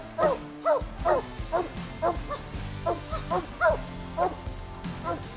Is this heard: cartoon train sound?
no